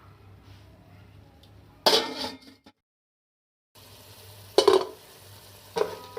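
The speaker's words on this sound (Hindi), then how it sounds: "3 टेबल स्पून हमने ऑयल लिया है। अब इसमें हम चिकन डाल देंगे।" Chicken dropped into three tablespoons of hot oil for a spring roll filling, giving short bursts of sizzling and stirring separated by quiet gaps.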